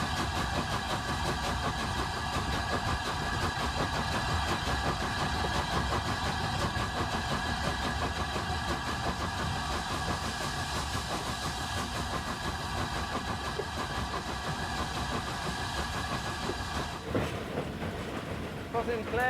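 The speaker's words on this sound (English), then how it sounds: "he goes by the sound of the locomotive as well" The Flying Scotsman steam locomotive rumbles steadily as heard from the footplate. A constant, loud mechanical drone and rhythmic chuffing fill the whole stretch, with a brief shift near the end.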